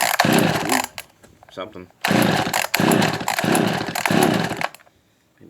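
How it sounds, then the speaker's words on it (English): Echo 280e chainsaw, unused for ten years, roars to life with choke out and switch on, running loud in two long bursts separated by a brief pause with a voice, then cutting off. "Let's see if she starts. Choke out, switch on."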